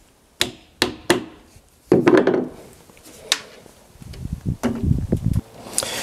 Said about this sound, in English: I'm going to stick some wedges in there to kind of shim it in place.